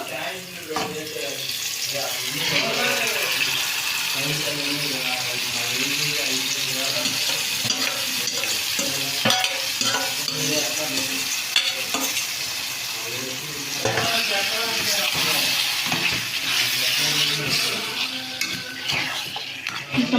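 Mutton frying with onions and coarse salt in a pan for a Telugu-style curry, a steady sizzle with stirring and scraping running throughout, close and fairly loud with no speech over it.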